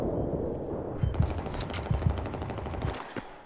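Gunfire in a Battlefield 3 team deathmatch on the Grand Bazaar map: short automatic bursts with two or three clusters of loud shots over a constant din of battle noise. No one speaks.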